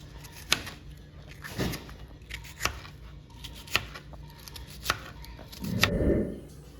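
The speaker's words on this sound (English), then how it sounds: "I'm chopping my red onion up like so" Knife chopping red onion on a board for a cold rotini pasta salad with diced tomatoes and cucumbers: about six crisp, separate chops at an uneven, unhurried pace, close by, with a louder scraping sweep near the end and no talk.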